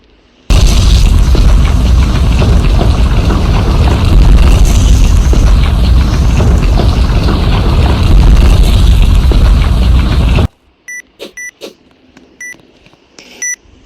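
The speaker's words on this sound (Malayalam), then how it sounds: "ബോംബ്" A bomb explodes in the Roblox video game, a loud sustained blast roaring for about ten seconds, then cutting off into a few sharp electronic beeps and pops.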